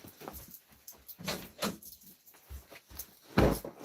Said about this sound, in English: my dog is scratching at the door